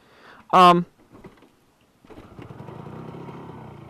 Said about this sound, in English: Yeah, it's kickstart, but it fires straight up.